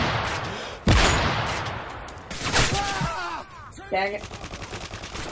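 Rifle gunfire in the video game Modern Warfare 3, with a .50 caliber rifle in play: a sharp, loud shot near the start followed by further bursts and impact sounds, while someone talks over it.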